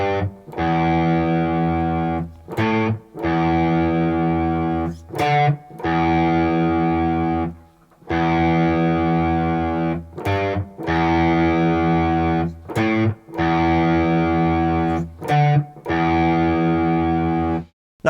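A distorted electric guitar plays a riff on a single string, starting and ending on the open string, in loud repeated phrases separated by brief silent gaps.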